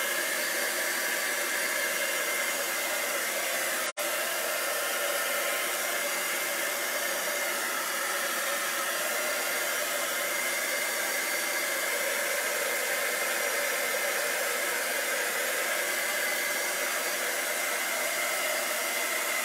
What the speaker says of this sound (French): mais moi, je vais l'accélérer avec mon fer à embosser